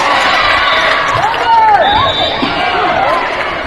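A gym crowd at a high school volleyball match, a fifth-set Pink Out Night game, erupts in loud, sustained shouting and jeering after a referee's call, with whistling voices and an announcer talking over the noise.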